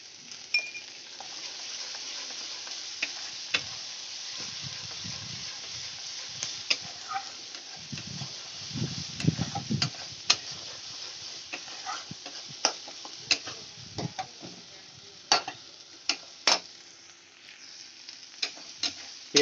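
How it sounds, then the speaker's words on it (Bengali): Salted onions being fried and stirred in a pan, a continuous low sizzle broken by many sharp spatula taps and scrapes against the pan, close by with no talk. "পেঁয়াজটা দিয়ে আমি ভালো করে কষিয়ে নেব"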